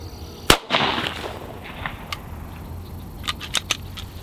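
A single sharp handgun shot of Federal HST carry ammunition fired into level IIIa soft body armor outdoors, a loud close crack followed by a brief rumbling echo and a few faint scattered clicks.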